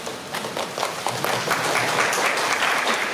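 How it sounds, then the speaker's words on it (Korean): Warm audience applause greets actress Han Ji-min as she steps onstage at a press event for the MBC drama 'Spring Night', clapping building over a few seconds into a full, steady roar. "올라올 때 따뜻한 박수로 맞아주시기 바랍니다"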